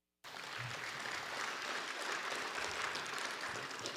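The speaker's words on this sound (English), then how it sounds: "So let's give them a round of applause." An audience applauds graduates of a Justice and Social Inquiry PhD program at an honoring ceremony, a dense, even wash of clapping that starts abruptly and holds steady, distant and fairly soft.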